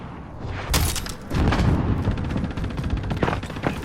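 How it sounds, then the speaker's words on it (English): A rocket launches and explodes during a Call of Duty Warzone match, with sudden loud blasts followed by dense rumbling and rapid crackling gunfire, no talking. "Launching rocket."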